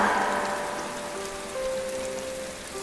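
Steady rain patters on a surface, a dense hiss of drops, with faint tonal music lines running beneath.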